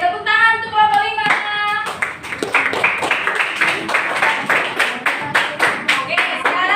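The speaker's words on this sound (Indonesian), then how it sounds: "tepuk tangan untuk kelompok 5." A classroom of primary school students claps for a student group after a presentation, a burst of rhythmic hand claps following a brief voice, with further talk mixing in near the end.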